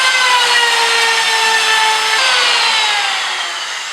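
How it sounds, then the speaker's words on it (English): A router trims excess wood veneer from the edge of a workpiece, giving a high, whining cut with steady tonal harmonics and a slight drop in pitch partway through, close and loud, with no talking. "now you're gonna take the router and we're gonna cut off the excess veneer"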